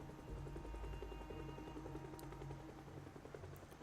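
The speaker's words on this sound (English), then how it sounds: "No, it is the helicopter." Helicopter from the video game Project Zomboid flying overhead, a steady low rotor rumble with a faint rhythmic chop that holds throughout at moderate level, with no talk.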